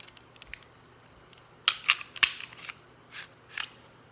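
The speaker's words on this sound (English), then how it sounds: "Whereas if I take apart this Springfield XD," Metallic clicks and snaps from a Springfield XD 9mm pistol being taken apart, a scatter of sharp near clicks with a short burst of several in quick succession, alone with no talk.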